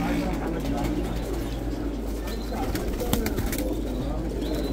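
Soft, repeated cooing of pigeons at a bird market in Kadhimiya, Baghdad, beneath a constant background hum, with faint rustling and a few chirps nearby.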